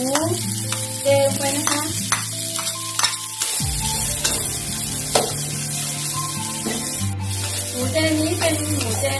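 Vegetarian stink beans (sato) fry in a pan with carrot, giving a continuous close sizzle and repeated scraping stir strokes, with no talking.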